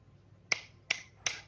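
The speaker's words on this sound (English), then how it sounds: "I don't know if you can hear me clapping or not." Three sharp hand claps close to the microphone, evenly spaced less than half a second apart, in a quiet room.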